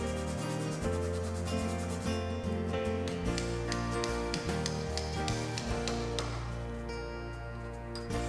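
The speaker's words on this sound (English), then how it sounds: "more hand sanding." A square wooden knife handle block is sanded by hand in steady back-and-forth strokes, a continuous close scratchy rubbing under faint background music.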